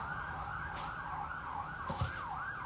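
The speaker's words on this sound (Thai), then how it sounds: "รถตำรวจรถดับเพลิงจ้ะ" A police car and fire engine pass with wailing sirens on a road in England near a garden, the rising and falling tones sweeping over steady traffic noise.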